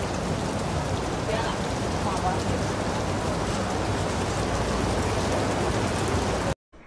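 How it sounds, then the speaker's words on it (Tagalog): Heavy rain pours steadily over a night market on Guangzhou Street in Taiwan, a dense, loud, continuous hiss of drops hitting surfaces that fills the scene before cutting off abruptly at the end. "ang lakas ng ulan. Ang malas natin. Hindi natin mai-enjoy dito."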